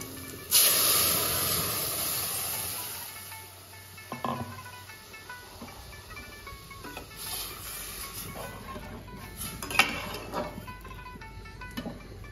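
Boiled mung dal poured into hot tempering of cumin and radhuni, a loud sudden hiss that bursts in and then settles into a sputtering simmer with scattered pops and clinks.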